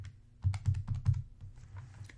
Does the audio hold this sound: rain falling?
no